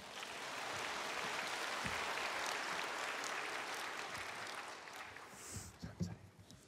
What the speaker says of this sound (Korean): 나올 때 우리 박수로 환영하겠습니다